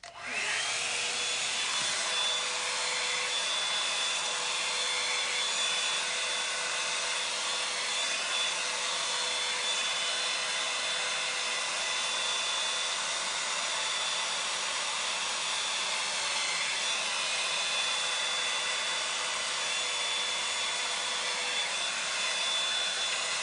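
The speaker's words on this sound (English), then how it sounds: "as soon as I am done with the blow drying part, because I know it's kind of loud" Hair dryer blowing curly hair dry, a loud steady motorized whoosh running continuously and close throughout, with slight shifts in tone as the airflow moves and no speech.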